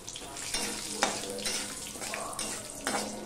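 Panch phoron spices and a torn bay leaf frying in hot oil, a steady bright sizzle with crackling bursts and stirring scrapes, close by, while someone talks over it.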